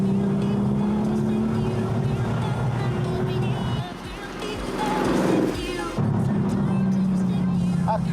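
Porsche 911 964 Turbo with its 3.6-litre engine driving, loud throbbing low engine drone with a shifting tone and a brief dip mid-run, close and continuous.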